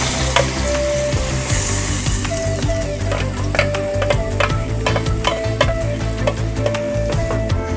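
Puréed tomato chutney poured into a hot pan of tempered urad dal and curry leaves, sizzling and frying steadily with intermittent stirring scrapes throughout, close and loud with no talk.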